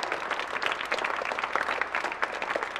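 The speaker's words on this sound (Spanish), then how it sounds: "démosle un aplauso también a nuestra madre en este día tan especial" A church congregation at a Thursday Mass honoring mothers breaks into dense applause, many hands clapping rapidly and steadily, fairly close and lively with no talk over it.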